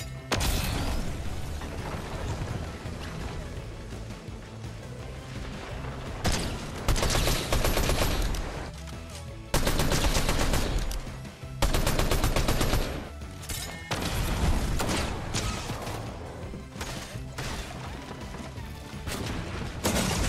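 Rapid bursts of gunfire and sharp sniper cracks from an online shooter game, dense and loud almost throughout, with repeated heavy clusters of shots over a continuous busy background.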